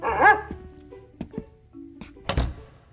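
A dog barks in a radio drama set in a building where the janitor brings his dog to work: one loud bark up front, followed by scattered thumps and knocks, with no talk.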